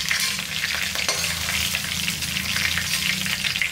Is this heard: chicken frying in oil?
yes